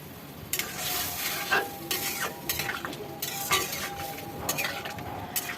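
Pumpkin greens in a pan, with steady stirring and sizzling, repeated scrapes and clinks of a utensil against the pan, and the sound of water going in. No one speaks.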